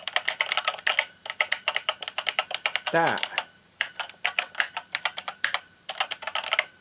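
Rapid typing on an Acorn Electron computer keyboard, a dense run of crisp, close key clacks in uneven bursts, with a short spoken word partway through.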